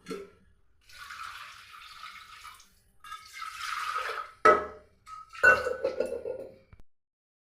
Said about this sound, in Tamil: மூணு மூணு வேறு கிளாஸ் தண்ணியாக சேர்த்துக்குவேன்